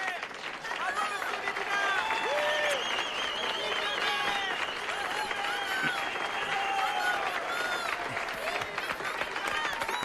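A crowd of townspeople in Agua Azul applauds and cheers for their mayor with sustained clapping, whistles and shouts that stay loud and dense throughout, while voices carry over the ovation.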